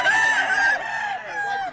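Chickens sound off at close range: a short, loud, wavering crowing-style call followed by a fainter second call, with no other sound around them.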